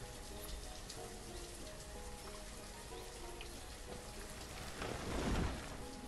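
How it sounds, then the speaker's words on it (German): Steady rain hisses in the Banished city-building game, a dense, even wash with a soft low rumble of thunder swelling near the end, heard under quiet game ambience. "Muss es denn wirklich immer regnen?"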